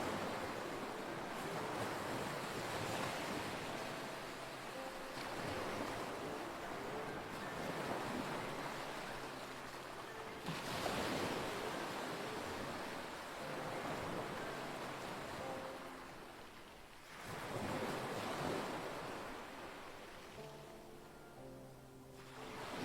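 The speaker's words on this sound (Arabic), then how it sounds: "مجرد تقعدون بهذا البحر وتسمعون مجرد صوته" Sea waves breaking on a Mallorca beach, steady broad surf roar with swells building and crashing every several seconds, some wind noise on the microphone and no voices.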